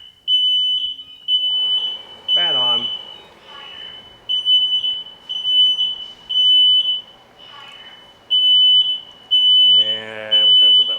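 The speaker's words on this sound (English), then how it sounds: "Oh, there goes the cooking alarm." A smoke alarm sounds in a home kitchen while marlin is being fried, its loud, steady high beeps repeating in short bursts across the whole stretch, with someone talking over it now and then.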